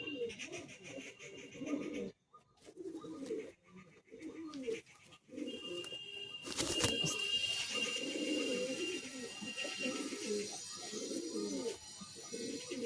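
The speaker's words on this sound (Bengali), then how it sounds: "পায়রা কিন্তু বড় সাইজের পায়রা আছে" Pigeons of a large Madrasi flying breed coo repeatedly in low, soft rolling phrases at close range, with a loud burst of rustling or wing-flapping midway and a steady high hiss behind.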